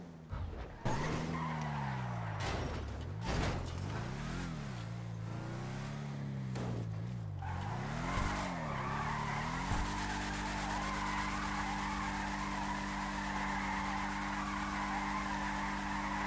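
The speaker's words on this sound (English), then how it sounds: "Can do some pretty good donuts and stuff with it." A Declasse Tulip M-100 muscle car in GTA V Online spins donuts, its tires skidding and squealing in long wavering bursts over a steady engine drone, then settling into a sustained loud skid for the rest of the stretch.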